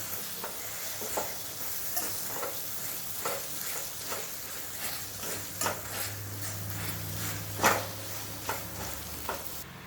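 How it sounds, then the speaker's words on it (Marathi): Green chilli thecha being mashed with a masher in a hot pan, giving soft repeated thuds and scrapes over a continuous gentle sizzle, close and fairly quiet, with no talking. "त्यानंतर मॅशरच्या साह्याने हे थोडंसं एकजीव करायचं आहे"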